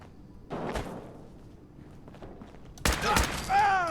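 Gunfire in Fallout 4, with a sharp shot early, then a tight cluster of loud cracks near the end followed by ringing, whining tones, heard amid other scattered game sounds.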